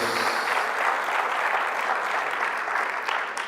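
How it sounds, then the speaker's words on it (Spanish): Inside a church, the congregation applauds in a full, sustained burst of clapping that holds at an even level from start to finish. "Fuerte ese aplauso a nuestro Dios."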